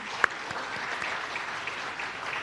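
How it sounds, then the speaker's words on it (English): Audience applause for partner universities and students at the Design for Change Malaysia/Singapore 2024 event, a soft steady patter of clapping from a room of people, with one sharper clap near the start. "A round of applause to you too."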